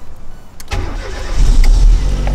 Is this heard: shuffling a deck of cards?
no